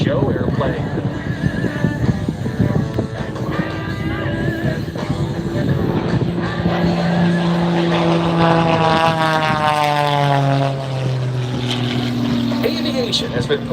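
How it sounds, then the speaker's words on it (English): A 1956 de Havilland DHC-1 propeller trainer flies low-level aerobatics at an airshow, its engine droning steadily and shifting pitch as it passes, loud and continuous under a bed of crowd noise. "Flying this 1956 de Havilland DHC-1, designed originally as a trainer for the Royal Canadian Air Force, we're in for a display of low-level aerobatics"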